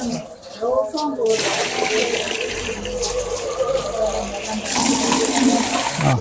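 A short spoken phrase, then a rushing gush of milky-coloured well water poured steadily, growing louder near the end.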